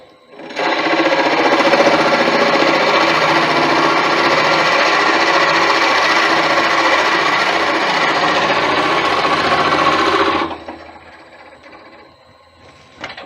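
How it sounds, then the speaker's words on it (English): A wooden tea light turns on a lathe while a hole is drilled into it, giving a loud, steady grinding whir for about ten seconds before it cuts off and spins down. "that's the hole drilled"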